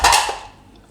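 Dry nylon poha chevda tumbles into a bowl with a brief, bright crunchy rattle that quickly fades away.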